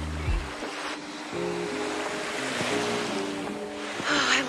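Ocean surf washes steadily onto a beach in Moalboal, Cebu, with mountains in the distance, a continuous broad wash with a few louder swells and some wind rumble on the microphone, no voices.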